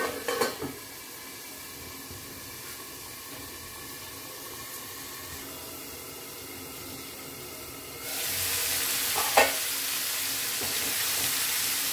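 Low, steady sizzle of prawns and Malabar spinach frying for curry in a covered pan, briefly lifting into a louder, brighter hiss near the end, with faint pan clinks and no voices.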